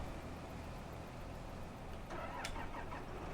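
A tractor engine in Farming Simulator 22 hums steadily at a low idle, then gives a short rev near the end, moderately loud with no talking.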